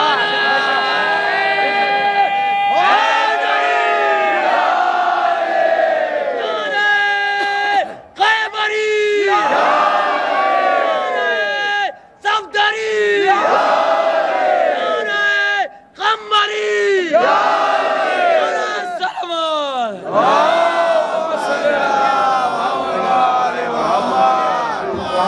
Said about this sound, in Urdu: ابھی آپ نعرے حیدری بلند کریں گے